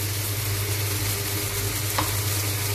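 Onion, garlic and ginger paste frying with spices in a pan, a steady close sizzle that holds evenly throughout with no voices.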